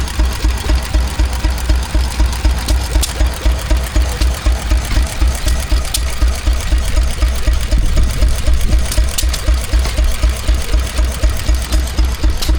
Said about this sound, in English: so it's driving a dynamo